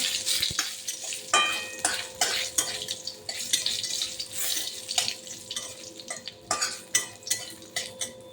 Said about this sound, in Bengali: তেল গরম হয়ে গেছে, দিয়ে দেবো শুকনো লঙ্কা, তেজপাতা, দিয়ে দেবো জিরে।